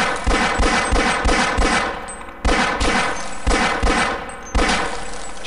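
Rapid bursts of gunfire from Gordon's weapon in Half-Life, a loud game gun firing in quick repeated volleys with brief pauses between bursts, up close and without talk.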